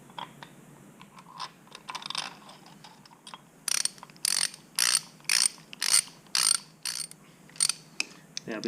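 A ratchet wrench tightening bolts on a Suzuki RMX450Z four-stroke dirt bike during an oil change, a run of about eight sharp clicking bursts in a steady rhythm, with fainter scattered clicks and handling noise before them.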